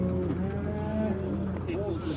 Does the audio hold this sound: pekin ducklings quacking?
no